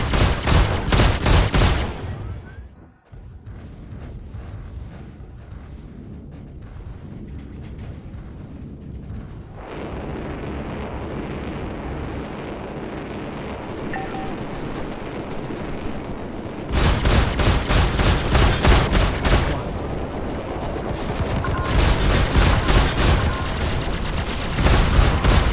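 Spaceship combat in Star Citizen: loud bursts of rapid gunfire and booming explosions open the scene, give way to a lower rumbling lull, then return in heavy sustained volleys.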